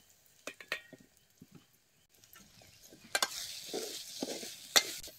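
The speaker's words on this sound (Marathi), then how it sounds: "आलं लसूण बी तेलात असं चांगला भाजून घ्यायचं" Ginger and garlic fry in oil over a wood-fired stove. Scattered spoon taps and scrapes come first, then a louder sizzle swells up with stirring clatter.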